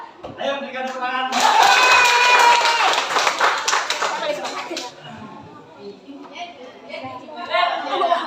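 Audience in a school classroom breaking into brisk clapping applause that swells, holds for about three seconds and fades, with voices chatting before and after.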